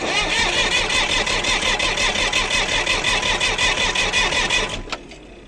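An International 484 tractor's starter motor cranks the engine in a steady, fast, rhythmic churn, loud and close, for nearly five seconds before cutting off abruptly.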